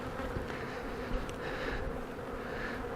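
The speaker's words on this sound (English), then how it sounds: "Still a few bees hanging out down here." Honey bees buzz steadily after a swarm capture, a dense continuous drone that fills the space at close range with no voices present.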